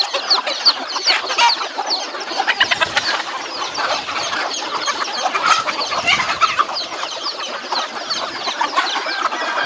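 A flock of country chickens clucks busily while pecking at spinach, a dense, overlapping chorus of close, loud clucks and chatter with occasional sharper calls.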